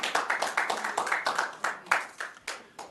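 Audience clapping at a county board of supervisors meeting, a steady run of hand claps from a small crowd, fairly close and moderately loud, tapering in places.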